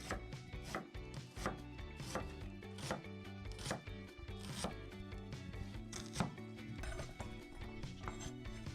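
A knife chops a vegetable coarsely on a cutting board, a fast, even series of sharp close thuds repeating roughly every half second, loud and alone without speech.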